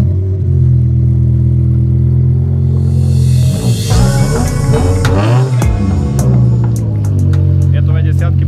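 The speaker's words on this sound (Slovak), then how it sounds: "Tieto V10 majú zvuk jak Formula." A BMW M5 with a V10 engine idles with a deep rumble, then revs sharply in a couple of high, screaming bursts before settling back, loud and close, with faint voices around.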